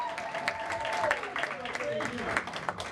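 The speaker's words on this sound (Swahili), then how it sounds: "kwa makofi na heshima yote" An audience claps to welcome the treasurer at a Congolese youth party in Baltimore. The steady applause runs the whole time, mixed with voices and tonal sound.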